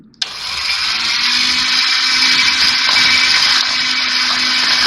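An electric beater starts with a click and whirs steadily while beating eggs and sugar in a bowl for a sponge cake, a loud, close, continuous high buzzing drone with a faint rattle, no talking.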